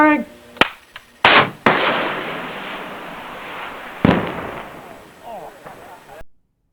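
Gunfire from the 6 Days in Fallujah video game trailer: a few sharp isolated shots, then a loud sustained blast of fire that fades, followed by another heavy burst that trails off, with voices faintly mixed in.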